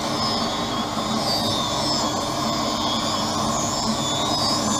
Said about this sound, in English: It's applying the safety bevel to the front surface, the convex surface of the lens.